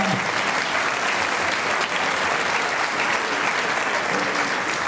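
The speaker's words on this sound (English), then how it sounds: "Applaud for them, please." Audience applauding a school orchestra at a festival concert: dense, sustained clapping from a large crowd, loud and even for the whole stretch, with no pauses.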